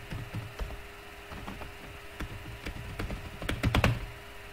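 Computer keyboard keys pressed while configuring SSH access to a remote computer: a scattered run of sharp, close clicks, sparse at first and then bunching into a rapid flurry of louder taps near the end, with no voices.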